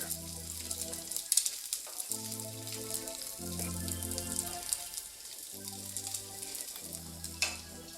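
Bacon fries in a pan with a bright, continuous sizzle and light crackling, close and fairly quiet, while background music plays over it.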